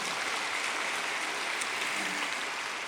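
Congregation at a Sunday church service applauding the choir, a steady, soft wash of many hands clapping, distant and even throughout.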